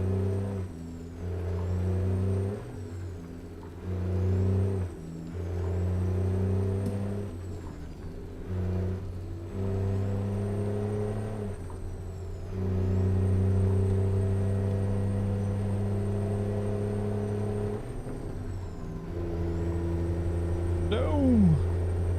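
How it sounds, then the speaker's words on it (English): A truck engine in a driving video game roars loudly through repeated gear changes, its droning pitch climbing then dropping between shifts, with a closing hiss and a brief rising whine near the end. "This truck is loud as shit,"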